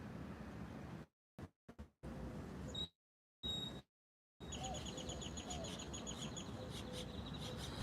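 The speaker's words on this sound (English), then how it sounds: "I know I hear birds, but I hear an owl." Birds, including an owl, chirp and call in short tonal bursts over a steady outdoor background hiss, broken by brief stretches of silence.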